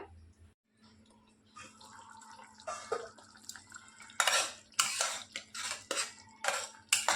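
Masala roasting in a pan for low-oil cabbage kofta curry, with metal spoon scraping and clinking in irregular close strokes over a faint background hum.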